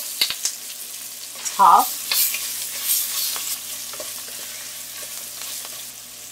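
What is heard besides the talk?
curry leaves, green chili and onion frying and stirred for sambar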